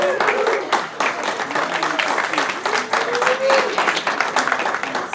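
An audience at a live sports interview show in Boston breaks into applause and cheering, dense clapping that holds steady and fairly close for several seconds while a host's voice talks over it.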